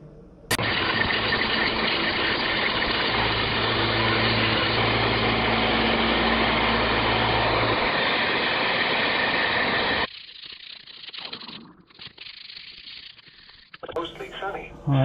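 A vintage Hen & Rooster pocket knife's handle sides being sanded, a steady, loud, continuous abrasive rasp running for about ten seconds before it stops, followed by quieter handling noises and brief shuffling.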